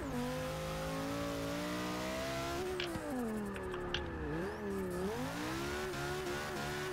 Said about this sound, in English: that rev limiter though